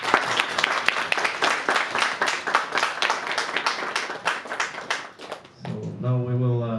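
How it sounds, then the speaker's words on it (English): Audience applause at an ISKCON Sunday Feast program, a dense steady wash of many hands clapping for several seconds, then fading as a voice starts speaking at the end. "Let's give a round of applause."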